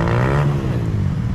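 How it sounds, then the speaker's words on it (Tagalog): Motorcycle engine near a rural house in the Mount Apo lowlands, a loud steady droning hum with a slight rise in pitch, continuous throughout. "Ayan, maingay pa, may motor dun,"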